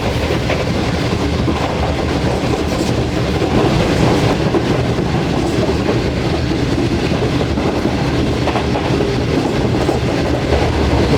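The Shalimar Express rolls along the rails through Punjab with a continuous loud rumble and rhythmic clickety-clack of the wheels, heard from inside the train with no voices.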